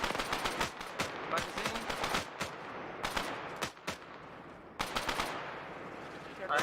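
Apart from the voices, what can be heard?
gunfire in a video game, suppressive fire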